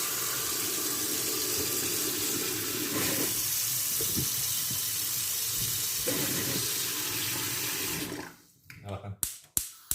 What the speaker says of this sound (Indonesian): kita pakai air panas kalian biar tidak terlalu lama